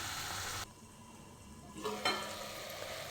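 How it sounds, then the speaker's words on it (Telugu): Chopped tomatoes with salt stirred in a frying pan, a soft continuous sizzle broken by a few scraping strokes of the spoon against the pan. "కట్ చేసిన టమాటో వేసుకుందాం. సాల్ట్ వేసి కలుపుకుందాం"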